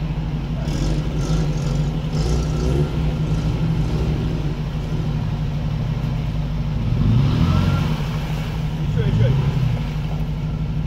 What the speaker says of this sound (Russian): Нива попробовала свои силы и на парковочку едет.